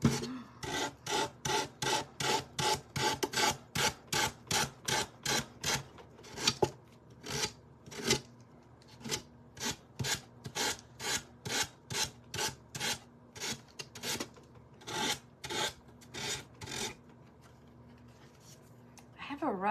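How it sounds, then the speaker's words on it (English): Rough sandpaper scrapes across a thrifted wooden piece in quick, steady back-and-forth strokes, close and fairly loud, with brief pauses between bursts. "I just, like I said, I don't want to sand away the wood."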